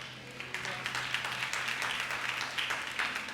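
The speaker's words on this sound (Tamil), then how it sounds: "கைத்தட்டுங்க பார்க்கலாம்." A church congregation claps along during a service, a steady, moderately distant patter of many hands that continues throughout without a break.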